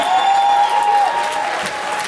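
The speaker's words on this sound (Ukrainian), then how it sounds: "Аплодисменти, друзі" A concert audience applauds in a hall, a dense, loud and steady wash of clapping heard close throughout, with a faint sustained tone running underneath.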